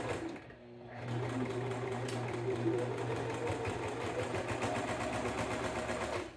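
A sewing machine stitches through a thick bed-sheet apron waistband, running loud and steady with a fast, even mechanical hum after a brief pause near the start.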